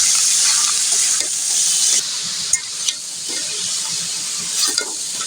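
Lau shak greens stirred and fried in a pan with onion and gram flour, a loud continuous sizzle broken by scraping stirs and a few sharp clanks of the utensil, close up with no voices.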